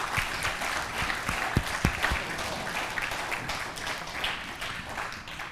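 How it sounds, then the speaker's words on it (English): A church congregation applauds the mothers present, a broad steady wash of clapping with a few sharper nearby claps standing out early on. "Can we just give all of our moms a big round of applause right now?"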